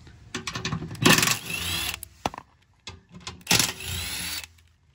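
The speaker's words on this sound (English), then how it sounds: "we're gonna take off the skid plate using a 13 millimeter socket" A power tool fitted with a 13 mm socket spins out skid plate bolts on a Jeep Gladiator JT in two loud, close bursts of ratcheting whir, each followed by clinks of metal and brief quiet.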